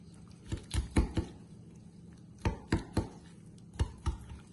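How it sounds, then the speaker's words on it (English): Knife cutting slits into raw chicken breast and leg quarter for jerk chicken, heard as close, dull thuds on a board in two quick clusters of four, then a shorter pair, with quiet pauses and no talking. "we'll do some little slices or holes on the chicken breast and the leg quarter"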